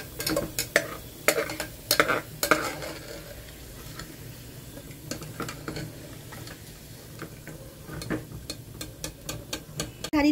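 Onions fry in hot oil in a pan while a utensil stirs and scoops them out, giving a quiet bed of sizzle broken by frequent sharp scraping and clinking ticks of metal against the pan.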